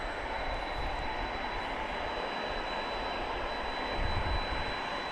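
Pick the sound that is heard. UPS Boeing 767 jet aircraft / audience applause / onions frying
UPS Boeing 767 jet aircraft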